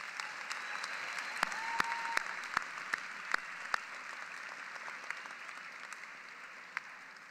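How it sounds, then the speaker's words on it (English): Warm applause from a large audience at a law school commencement fills the room, steady clapping with a few sharper claps standing out, continuing for several seconds. "give their family and friends a really warm round of applause"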